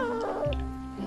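A cat gives one drawn-out meow with a falling, wavering pitch, close and fairly loud, lasting about a second.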